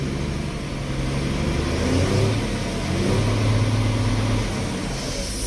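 A truck engine held at maximum RPM during a diesel wiring and AdBlue repair, a steady loud drone with faint rising and falling tonal lines, continuous and close throughout with no talk.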